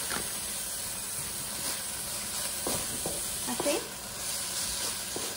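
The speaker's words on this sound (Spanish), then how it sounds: "Y los voy a freír solamente un poquito." Vegetables frying briefly in a pan for beef picadillo with chipotle, a faint steady sizzle and hiss broken by a few soft stirring scrapes, with a short spoken word near the end.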